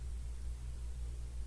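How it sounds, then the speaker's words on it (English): A household dishwasher running in a home kitchen, a steady low hum with broadband washing hiss, constant and moderately quiet throughout with no talking. "you know what that sound is? It's my dishwasher."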